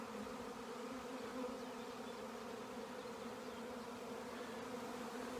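A honey bee swarm drones steadily around a hive, a dense continuous buzzing hum of many insects in flight, moderately close and unbroken with no voices.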